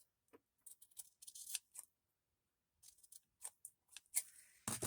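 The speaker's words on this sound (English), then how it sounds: "So we can cut this little edge off." Scissors snip the paper edge off a handmade ephemera card in a quiet room, giving several close, crisp cutting bursts in two short runs separated by a pause.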